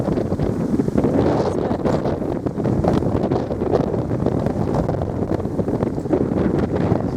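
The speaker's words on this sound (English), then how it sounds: "it's windy" Strong coastal wind at Scarborough castle and lighthouse buffets the microphone in a continuous, gusty roar, loud and unbroken throughout, with no voices.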